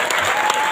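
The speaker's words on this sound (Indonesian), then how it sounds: "Tepuk tangan buat santri." Short burst of loud audience applause for Islamic boarding-school students at a patriotic gathering, dense clapping filling the brief moment alone.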